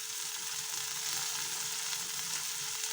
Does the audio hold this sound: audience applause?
no